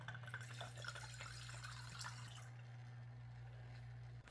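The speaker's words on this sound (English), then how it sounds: "I carefully remove the collection part and pour off the top into a little flask." Allyl alcohol distillate is poured off from a glass collection head into a small laboratory flask. A soft, faint trickle lasts about two and a half seconds over a steady low equipment hum, then stops.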